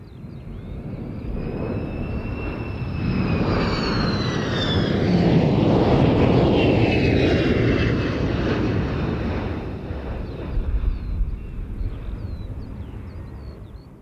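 KC-10 tanker aircraft flying over an air fete, a broad engine roar that builds to a loud peak mid-pass and then slowly fades, with whining turbine tones sweeping across it.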